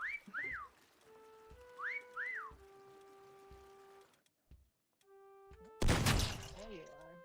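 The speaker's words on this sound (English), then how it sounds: "Why are those whistles not helping me?" Whistles in the Disney Dreamlight Valley video game: a few rising two-note chirps early, then sustained steady tones, ending with a loud burst of bright noise and chatter.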